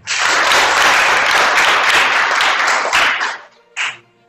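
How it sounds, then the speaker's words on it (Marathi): An audience at a library event in Amravati breaks into loud, dense applause to welcome guests donating books, holding steady for about three seconds before fading, followed by one short final burst of claps. "त्यांचं तुम्ही पहिले टाळ्या वाजवून स्वागत करा"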